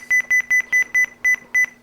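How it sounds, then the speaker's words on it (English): Loud electronic beeping from stock car race equipment, a quick, regular series of short high-pitched tones, eight beeps in under two seconds, with no talking. "I gotta turn that beeping down. That beeping's heavy loud."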